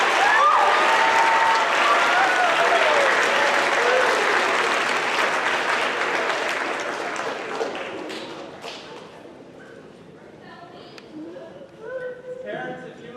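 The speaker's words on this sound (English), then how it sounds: "And students, now you may give your round of applause." A school crowd applauds at a sixth-grade awards ceremony: dense, loud clapping for about eight seconds that thins out and fades, leaving a few scattered claps and taps at the end.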